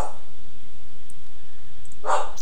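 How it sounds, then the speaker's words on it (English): A nervous dog barks close by, one sharp bark at the very start and another near the end, with near-silence in between. "I've got a really nervous dog"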